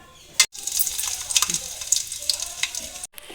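Chopped chillies crackle and sizzle in hot oil, a bright continuous spitting hiss with brief cutouts, close and moderately loud.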